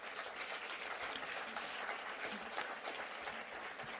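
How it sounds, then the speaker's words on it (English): Audience at the EURORDIS Black Pearl Awards ceremony applauds National Alliance representatives from Belgium, Italy, Denmark, Romania and France, a steady, dense round of hand-clapping filling the hall throughout. "Let's give them a big round of applause."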